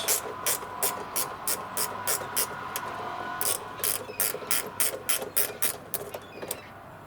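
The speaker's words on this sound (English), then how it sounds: "the first thing we're going to do is undo these" Rapid ratchet clicks in repeated bursts as bolts are undone on the side light of a Vauxhall Antara, close and fairly loud over a faint steady hum.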